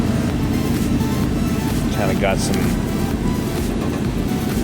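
A car with a suspected head gasket problem idles at a salvage auction yard with a steady low rumble, while a person talks briefly over it outdoors.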